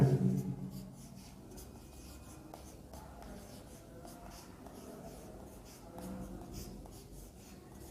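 A pen or pencil writes numbers by hand during a maths lesson, making quiet, close scratching and light scribbling strokes that are continuous and faint.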